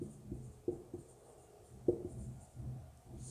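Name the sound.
writing a formula by hand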